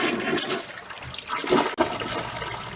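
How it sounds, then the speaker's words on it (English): A toilet flushes with a loud, rushing surge of water that gurgles and swirls for a few seconds, heard close up. "just flush your toilets"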